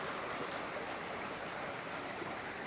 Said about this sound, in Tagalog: Napaka sarap pakinggan ang simoy ng hangin, ang huni ng ibon at saka ang busis ng umaagos na tubig